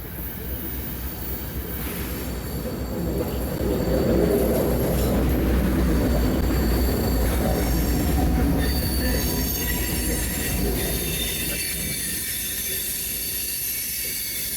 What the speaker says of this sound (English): oh, I think the train's coming.